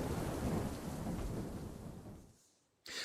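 Thunderstorm with heavy rain, a loud rolling thunder rumble over dense rainfall that fades to near silence before a short burst of rain returns at the end.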